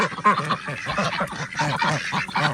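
Female domestic ducks quack close by in a rapid, overlapping series of loud honking calls.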